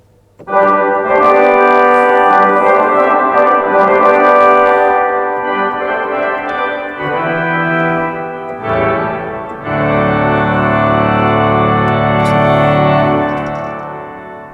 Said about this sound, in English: this actually includes on this organ trumpets and oboes and clarinets